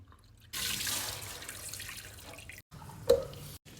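Long-grain rice for pilaf is rinsed in water, with a few seconds of swishing, splashing water broken by short pauses and one sharp drip or clink near the end.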